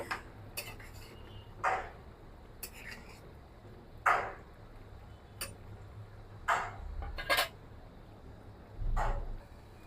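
Metal clinks and taps as the lid comes off a cooking pot of moong dal with loti, a handful of sharp close knocks spaced apart over a quiet background.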